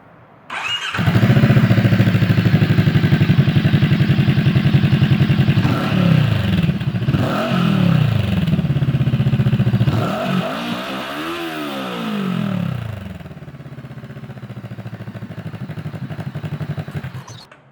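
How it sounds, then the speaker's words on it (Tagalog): A Voge 525 RR motorcycle with its stock exhaust run without the baffle starts up and is revved, a loud, close, raspy engine note that climbs and falls through several throttle blips before settling into idle. "to give you an idea sa tunog ng stock exhaust niya without the baffle, here's the sound"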